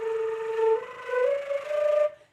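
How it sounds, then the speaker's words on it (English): Flute played with flutter tonguing that fails to produce a clear tone, giving a breathy, buzzing sustained note that rises in pitch partway through and stops abruptly, solo and close. "if you find that you still can't get a clear sound when you're flutter tonguing"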